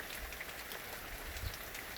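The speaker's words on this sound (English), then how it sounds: "go out there in the pouring rain" Steady heavy rain pouring down on a garden, a dense continuous patter of drops on surfaces with no voices.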